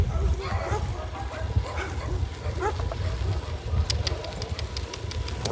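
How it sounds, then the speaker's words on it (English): Dog barking at a cyclist riding a gravel bike on a trail, several sharp barks over steady wind and road rumble. "Dogs when you're bike riding, scariest thing."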